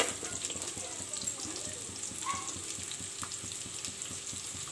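Onions fry in a pan for Delhi-style Mughlai chicken, a soft, continuous sizzle with light stirring scrapes and faint rhythmic ticking underneath.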